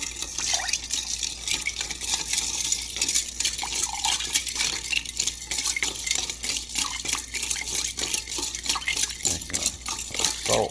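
Softener salt poured into a container of ice water, giving a steady busy clatter of granules and trickling, splashing water with clinking bits, fairly close and constant throughout with no talking.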